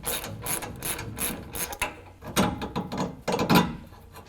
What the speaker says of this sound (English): you're going to want to use a 15mm socket on one end and an 18 on the nut for the other end